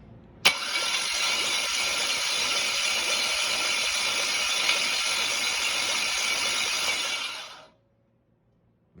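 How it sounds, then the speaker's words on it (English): An engine is cranked over by the starter at a couple hundred RPM to build oil pressure through an adapter. A sharp click starts a loud, steady, rhythmic cranking chug that runs for about seven seconds before cutting off into near silence. "cranking it over a couple hundred RPM"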